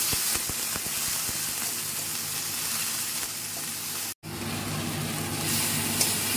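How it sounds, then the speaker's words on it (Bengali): Spice paste of turmeric, chilli powder, ginger paste, salt and sugar sizzles steadily in a hot pan, a dense continuous frying hiss with faint stirring scrapes and one brief gap. "নুন, মিষ্টি, হলুদ, গুঁড়ো লঙ্কা, আদা বাটা সব দিয়ে আমি মশলাটা কষিয়ে নিচ্ছি ভালো করে"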